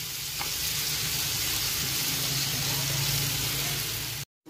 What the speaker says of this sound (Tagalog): So, ato siya iprito-prito gamay para sa mawala ang iyang kalansa.